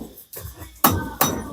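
Hammer blows while a door is being fitted into its frame, a few sharp, close strikes landing in quick succession with short gaps between them.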